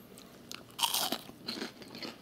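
A crisp bite into warm, freshly made fried breaded shrimp from Skipper's Seafood: a loud crunch of breading followed by softer crunching chews, close and with no talk.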